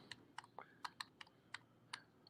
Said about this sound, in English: I'm typing in, I'm just bringing up the charts